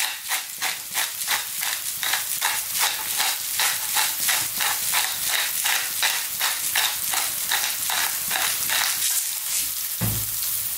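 Onions with dried oregano, salt and black pepper fry and get tossed in a pan over above-medium heat for a meat sauce, a steady loud sizzle broken by regular scraping stir strokes, with a brief low knock near the end.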